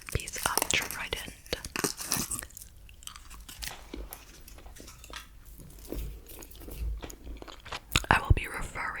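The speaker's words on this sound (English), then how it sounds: "I am gonna be chewing this piece of Trident." Trident gum being chewed up close, with soft wet crunching and squishing bites mixed with quiet whispering throughout.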